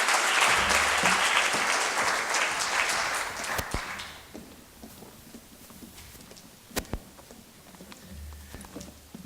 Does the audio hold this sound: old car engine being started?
no